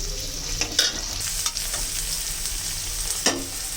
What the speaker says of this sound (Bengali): ফোড়নটা কষানো হয়ে গেছে